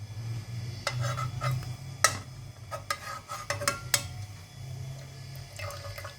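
Whisk scraping and tapping through thickening mango jelly in a pan, a soft repeated stirring clatter with a few sharper metal clicks against the pan.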